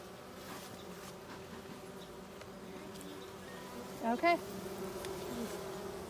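Honeybees buzz steadily around an open hive during an inspection on a small farm, a continuous close drone with a brief louder burst as one flies near, and a short spoken word partway through.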